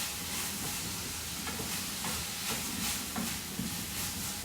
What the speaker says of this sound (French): Donc là je fais dorer la viande.